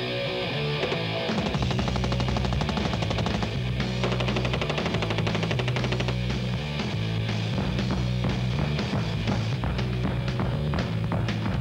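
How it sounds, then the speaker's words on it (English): A Walther MPK submachine gun fires from a 30-round magazine, a loud, dense stream of rapid automatic shots rattling continuously and close by from start to finish. "The barrel on the MPK is 6 inches long, and I'm shooting it with a 30-round magazine."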